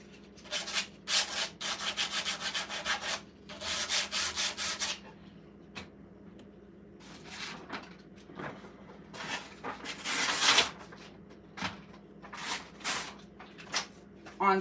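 Painted wood is scrubbed by hand with coarse 60 grit sandpaper in bursts of brisk back-and-forth rasping strokes, close up, separated by short pauses.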